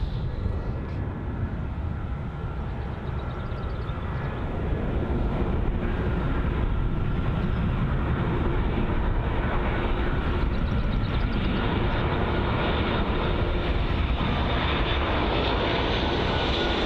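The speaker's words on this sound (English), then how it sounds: "we can expect is the Tui 737-800 from Mahone on its 2-hour and 7-minute long journey" A TUI Boeing 737-800 with split scimitar winglets lands at Bristol Airport, its jet engines giving a loud, steady roar that swells and holds throughout, with broadband rumble and no voices.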